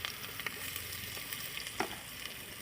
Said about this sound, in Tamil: எல்லாத்தையும் சேர்த்துட்டு எல்லாம் நல்லா வந்து வதக்கி விட்டுடலாம் வெங்காயம் வந்து நல்லா வதங்கட்டும்